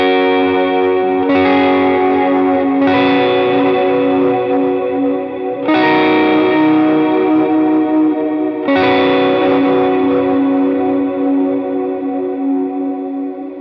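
Lead electric guitar played through effects with chorus, echo and reverb, a few picked notes and chords ringing out long and shimmering, loud and close with no talking.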